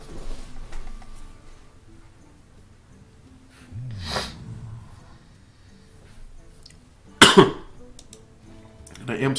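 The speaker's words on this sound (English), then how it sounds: "put this drink away because it's making me cough" A man coughs during a Hearthstone draft stream, with a few abrupt, harsh bursts standing apart from quieter stretches of low background sound.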